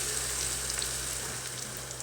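Paratha cooking in oil in a saucepan over a low flame gives a steady, even sizzle and crackle, close and moderately loud, with no talking.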